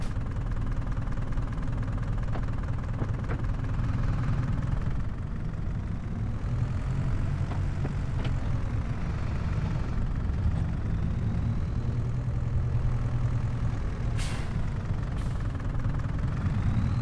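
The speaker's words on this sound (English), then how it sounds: "this Fendt tractor really does have a nice sound to its engine" A Fendt tractor engine runs steadily with a deep, throaty low rumble that holds fairly constant, with a few faint clicks and higher squeaks over it and no talking.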